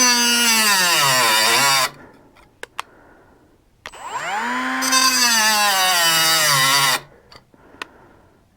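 A Hyper Tough cordless cutoff tool plunges full depth into a cut, its high, loud motor whine straining and dropping in pitch during two long bursts, with a short quieter gap and brief clicks between them.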